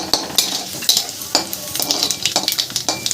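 Nigella seeds crackle in hot oil alongside fried garlic, with a sharp sizzle punctuated by the repeated scrape and clink of a spoon stirring in the pan.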